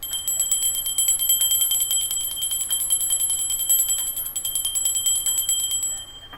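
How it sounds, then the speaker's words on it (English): A bell is rung rapidly and repeatedly, a bright sustained metallic ringing with fast strikes that stays loud and steady for several seconds before fading slightly at the end, with no talk. "And I got to ring the bell again."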